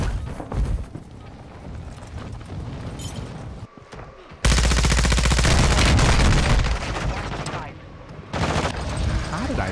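Video game gunfire comes in rapid bursts of automatic fire, a dense loud stretch in the middle and scattered shots around it, with thumping impacts and some talk mixed in.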